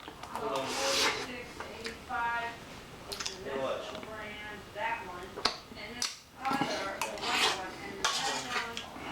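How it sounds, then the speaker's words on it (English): A metal spoon clinks against freshly washed dishes in a home kitchen, with sharp scattered taps and rattles spread across the span while a person talks over them. "I want to get this spoon here from the freshly cleaned dishes"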